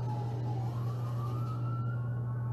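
An ambulance siren wails past on the Las Vegas Strip, its rising tone steady and loud over a constant low engine rumble, with no talking.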